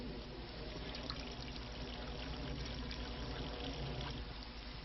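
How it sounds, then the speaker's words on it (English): Water poured through an improvised sock filter packed with charcoal, sand and moss, a steady, close trickling and dribbling that continues evenly with no talk. "What we do now is pour the water through this and collect at the other end."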